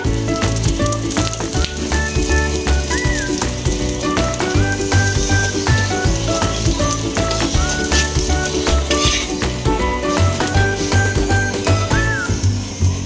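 Aloo paratha, a potato-stuffed flatbread, fries in oil on a pan with a steady close sizzle that runs throughout, partly under loud tonal background music.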